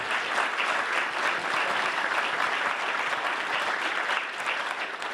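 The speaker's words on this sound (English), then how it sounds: "Can we give them a round of applause?" A conference audience applauds with steady, dense clapping from many hands, loud and even throughout with no break.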